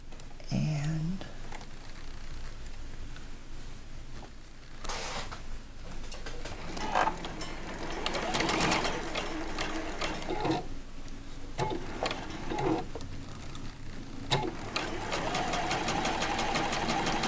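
Sewing machine stitching a 1.25-inch fabric strip onto a Christmas quilt block, running in steady mechanical bursts with clicks and pauses throughout, close and fairly loud, with background noise.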